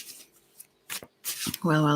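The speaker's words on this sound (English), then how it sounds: "I'll just have to shuffle it." A deck of cards is shuffled in a few quick, soft riffling bursts separated by short pauses, close to the listener, with a voice starting to speak at the very end.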